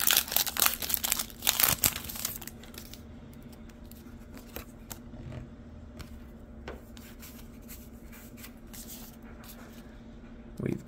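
Crisp crinkling and tearing of a Pokemon Champion's Path booster pack wrapper being opened, loud and close for the first couple of seconds, then fading to faint, sparse rustles of foil and cards.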